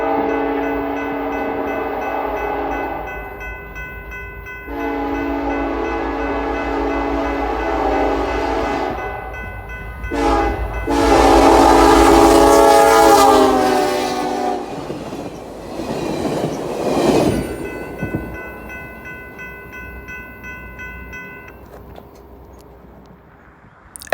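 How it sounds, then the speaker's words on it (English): A BNSF track geometry train passes close through town, its horn sounding in long blasts with a louder burst in the middle, over a steady rumble and rail noise from the wheels. "we find track geometry train UFTW WCF taking their clear shot through town"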